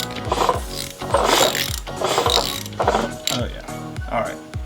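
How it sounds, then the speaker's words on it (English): A Harley-Davidson engine on a budget rebuild of a fire-damaged bike, cranked over with the spark plugs removed, gives a rhythmic mechanical chug of repeated clattering strokes, close and moderately loud, with some faint voice underneath. "We're just going to spin it over real quick without the plugs in it."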